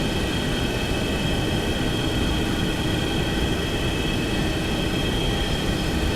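Steady, loud roar of Boeing 737-200 jet engines in the X-Plane 11 flight simulator, a continuous broadband rumble with a faint high whine, unbroken and close throughout, with no talking.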